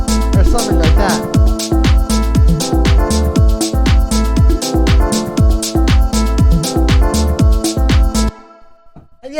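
A low-passed clap sample run through a drum bus in a deep house groove, repeating in a steady loud rhythm over a full beat with bass, then cutting out abruptly near the end.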